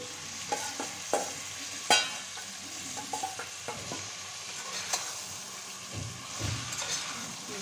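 Marinated mutton fries in hot oil for a pressure-cooker curry, a soft continuous crackle under scattered clinks and scrapes of stirring, fairly close and with no voices.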